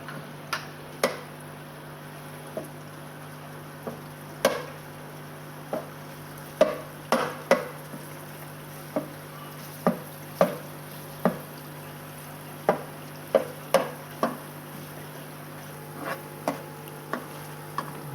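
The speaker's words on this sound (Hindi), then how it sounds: "मावे को हम बिल्कुल ब्राउन करेंगे, डार्क ब्राउन कर लेंगे इसमें" Mawa (khoya) is stirred and fried in a pan until browned, with a faint steady sizzle and a series of sharp, irregular spoon clicks and scrapes against the pan.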